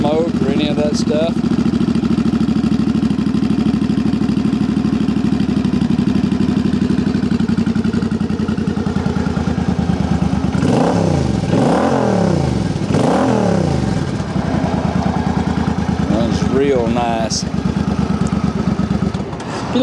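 A Suzuki Boulevard C50 motorcycle engine idles with a steady low rumble, then revs up sharply several times before settling back to idle.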